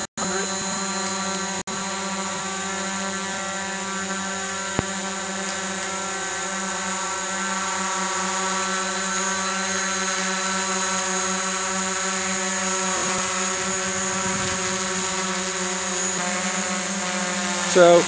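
DJI Mavic Pro drone hovering close overhead, a steady high-pitched propeller whine with layered tonal harmonics holding constant throughout, loud and continuous without speech.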